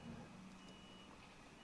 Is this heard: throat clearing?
no